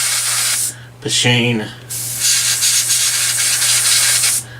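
An air compressor runs with a steady hiss and hum, cut by short pauses, while a voice briefly speaks over it.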